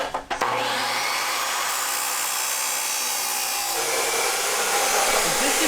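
A power tool cutting angle iron for a mini bike chassis, with a loud, continuous high-pitched grinding whine that runs steadily for several seconds close by after a brief start.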